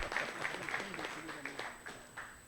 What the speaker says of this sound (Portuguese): E as palmas puxadas pelo nosso secretário.